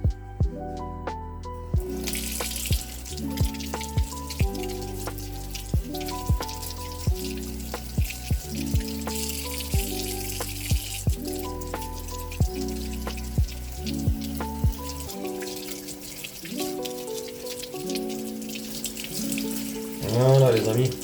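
An aquarium decoration for a biOrb tank is rinsed under a running kitchen tap, giving a steady rush of water that continues throughout beneath prominent background music.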